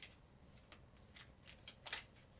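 Tarot cards being shuffled: a series of quick riffling bursts, crisp and close, with a sharper snap near the end and no voices.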